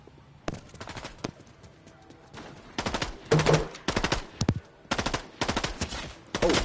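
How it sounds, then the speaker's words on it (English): Fortnite gunfire in a squads match: repeated bursts of rapid automatic shots mixed with single cracks, arriving in clusters with short gaps between them. The shooting sounds fairly close and grows denser and louder toward the end. "I'm headed towards that gunfire."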